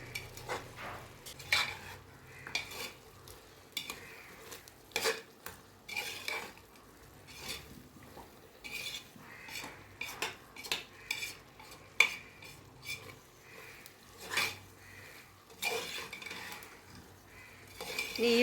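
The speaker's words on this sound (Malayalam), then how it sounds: "ഇനി അതെല്ലാം നല്ലതുപോലെ ഒന്ന് മിക്സ് ചെയ്തെടുക്കാം" Chili powder and garam masala are stirred into a pan, with irregular clinks and scrapes of a metal spoon over a faint sizzle, fairly quiet and close.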